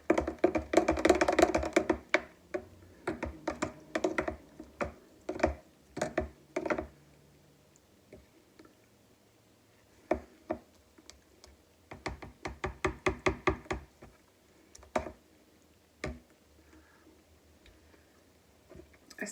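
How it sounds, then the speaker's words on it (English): Salsa being stirred by hand in a bowl, a run of close, sharp clicks and taps from the utensil against the container, busy at first, then sparser with pauses and another cluster of quick knocks near the end. "I'm just going to stir it up because I don't want everything else broken down more"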